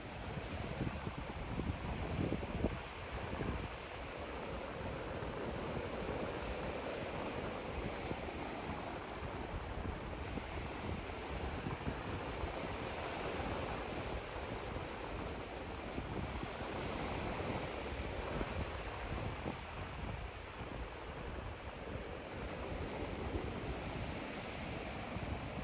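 Ocean surf rolls onto an island beach at sunset, a steady low roar of breaking waves mixed with gusting wind buffeting the microphone, continuous and moderately loud with no one talking.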